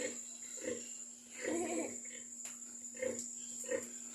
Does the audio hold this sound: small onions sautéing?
no